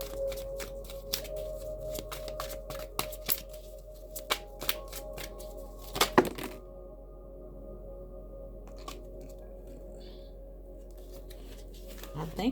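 Tarot cards are shuffled in quick papery riffles and clicks, and then a card is drawn off the top of the deck. A soft voice murmurs at times, and the clip ends in a quieter stretch.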